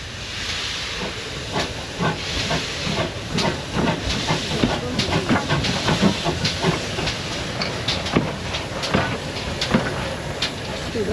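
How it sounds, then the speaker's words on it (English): A Manor class steam locomotive reversing at a Gwili Railway gala hisses steadily with steam, rail clanks and wheel clicks scattered through, nearby and sustained. "Here is then the manor class reversing decouple up to the coaches"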